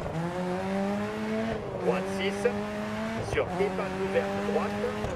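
Rally car engine in DiRT 4 holding a steady droning tone under gentle throttle, pitch dipping and rising with gear changes and light tire noise, while someone talks over it.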